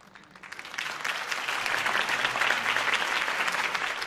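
In the Batman Telltale Series video game, a crowd applauds after a campaign speech, the clapping swelling quickly from a quiet start into a full, steady wash of many hands.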